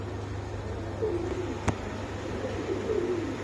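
A male pigeon at a pigeon market coos twice in soft, low, rolling phrases, fairly faint against a steady background hum, with one sharp click between the calls.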